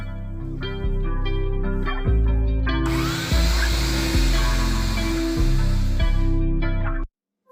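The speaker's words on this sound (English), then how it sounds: "grab yourself some polishing compound or some turtle wax, because that also seemed to work for me, and a buffer, and go ahead and buff the headlight" Power buffer with polishing compound working a plastic car headlight: a loud, close, steady motor whine that dips and surges as pressure changes, then cuts off abruptly at the end.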